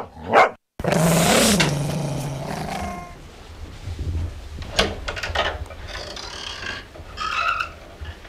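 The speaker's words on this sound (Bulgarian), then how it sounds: "Чух да лае куче, а не видях тук да имате." One loud, drawn-out dog bark rings out near the start of a Bulgarian comedy sketch scene. Quieter scattered knocks and rustles follow, with no speech.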